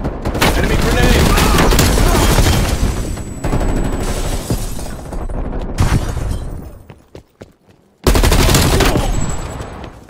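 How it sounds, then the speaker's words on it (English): Gunfire rattles in rapid bursts alongside booming blasts during a Call of Duty Black Ops Cold War Domination match on the Amerika map with an XM4 rifle, loud and dense, with brief pauses and a sudden cut before shooting resumes. "Enemy grenade!"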